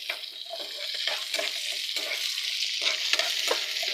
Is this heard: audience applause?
no